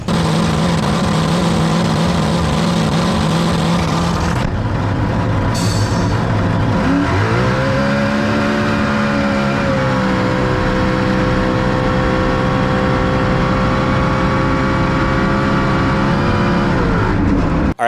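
A racing boat's engine at a drag boat race in Oregon runs loud and steady throughout, pitch dipping and then climbing as it revs, with a brief lull near the start.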